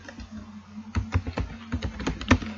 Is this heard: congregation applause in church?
no